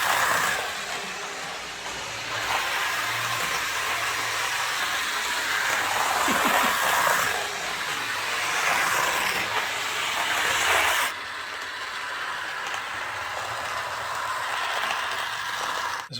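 HO gauge Jouef Class 29 model locomotive running at full power, a steady close whirring hiss of the small motor and wheels on track that holds nearly constant, dipping slightly partway through.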